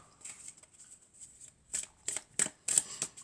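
Angels of Love oracle cards being shuffled by hand: soft papery riffles and slides, quiet at first, then a run of sharper, louder bursts of cards snapping together toward the end.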